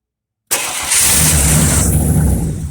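A car engine cranks on the key after brief silence, catches and settles into a loud steady idle with a slight rev; car is being worked on after transmission cooler lines were plumbed.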